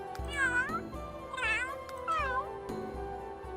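A synthesized cat in The Sims 3 with a slightly lowered voice gives three drawn-out meows in close succession, clear and near, with faint background sounds.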